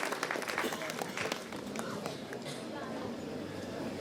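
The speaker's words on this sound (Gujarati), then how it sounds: "જોરદાર તાળીઓથી સોહિલ મહેંદાજીવાલા સર." Applause rises from an audience at a chartered accountants' keynote event to welcome guest Sohil Mehndajiwala, a dense patter of clapping that holds steady for several seconds.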